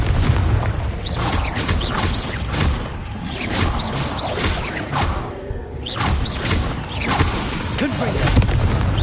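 Repeated blasting-curse explosions from Hogwarts Legacy spell combat, loud booms and crashes bursting every second or so over a continuous rumble, with shouted spell incantations mixed in.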